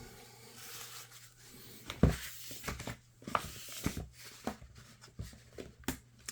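Someone wipes down a small Lenovo ThinkPad laptop by hand, giving soft rubbing, crinkly swipes and a few sharper taps and bumps in an irregular rhythm, close up and fairly quiet.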